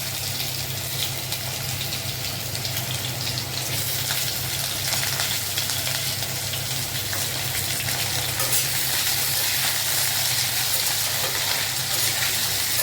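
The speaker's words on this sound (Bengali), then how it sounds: "তেল গরম হয়ে গেছে আলু দিয়ে দিচ্ছি" Potatoes frying in hot oil for an aloo-soybean curry, a steady close sizzle with crackling and stirring scrapes throughout, plus a low constant hum beneath.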